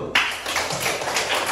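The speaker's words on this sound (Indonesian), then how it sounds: "Tepuk tangan dulu." Classroom of students giving a short round of applause after a group presentation, a dense patter of hand claps starting abruptly and continuing steadily at close range with no talk over it.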